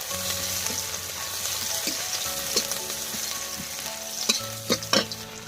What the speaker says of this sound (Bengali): পেঁয়াজ দিয়ে দিল, এবারে সরষের তেল দিল, এবারে একটু ভালো করে নেড়ে নিচ্ছে মা